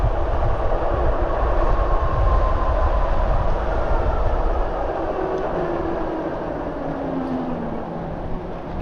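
A Bafang geared hub motor on an e-bike does regenerative braking during a ride, heard as a steady roar of wind and road noise, with faint rising and falling motor whines under the rumble.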